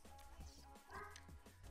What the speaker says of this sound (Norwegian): Beklager hvis dere hører den bjeffingen utenfor.